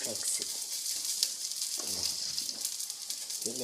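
Onions frying slowly in oil in a pan, a steady close hiss and sizzle running throughout, with a low voice speaking underneath at times.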